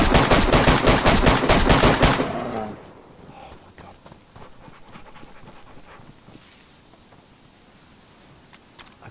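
Rapid bursts of automatic gunfire in a zombie shooter game blast loudly for about two seconds, then give way to quieter scattered shots and game noise.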